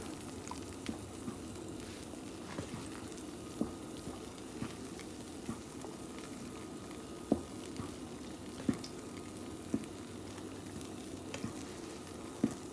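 A pan of Rotel dip seasoned with black pepper being stirred, giving a steady low sizzling bubble with soft scraping and occasional light taps of the utensil against the pan, continuous and close, with no talking.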